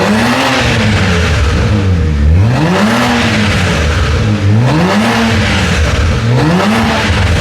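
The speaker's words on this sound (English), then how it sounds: "Let it warm up and give you guys a bit of a sound check. Valves closed, here we go." A 560 whp tuned car engine revs repeatedly with its exhaust valves closed, rising and falling in several smooth throttle sweeps, loud and close with a steady idle rumble between pulls.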